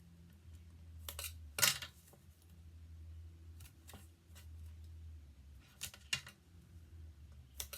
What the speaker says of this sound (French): Et en bas, on poinçonne.